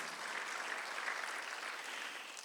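A church congregation at a Sunday worship service clapping together, a dense, even wash of hand claps heard from a distance, fairly quiet and steady without any speech over it.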